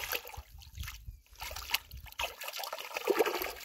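A fish caught on a countryside fishing trip is released back into the water, making a soft splash and lapping of water close by, with no talk over it.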